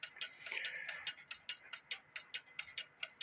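A cuckoo clock ticks in beat, its crisp, evenly spaced ticks sounding close and clear, about five per second, with a brief softer rustle near the start.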